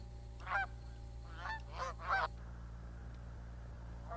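Four nasal honks from Canada geese come in quick succession, fairly faint, over a steady low background hum, followed by quiet, at Blackwater National Wildlife Refuge.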